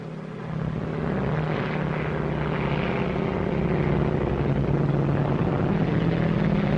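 Airplane flying at 15,000 feet in a 1937 action film, its propeller engine droning steadily and loudly throughout, a continuous low hum that swells slightly after the first half second.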